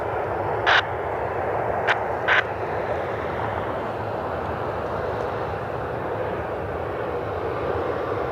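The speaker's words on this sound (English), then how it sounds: "our inbound flight is coming in. The United Express E175 out of Chicago." United Express Embraer E175 jet arriving from Chicago, a steady broadband engine roar at moderate distance with a few short beeps over it and no talking.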